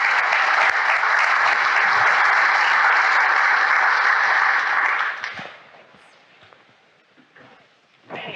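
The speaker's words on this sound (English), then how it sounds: "let's please make her feel welcome and give her a round of applause" A conference audience claps loudly and steadily for about five seconds as a keynote speaker is welcomed, then the applause fades quickly into quiet room noise with a few scattered claps and shuffles.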